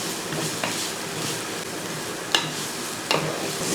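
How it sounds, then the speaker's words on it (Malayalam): Onions being stirred and sautéed in a pan, a steady soft sizzle with two sharp scrapes of the spoon against the pan near the end. "ഒന്ന് ഇളക്കി സവോള ഒന്ന് വഴറ്റിയെടുക്കണം"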